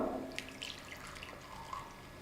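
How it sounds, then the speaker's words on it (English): Hydrogen water from an ionizer trickling into a bowl, a brief, soft pour with light drips, close and alone. "In the other bowl, I am taking hydrogen water."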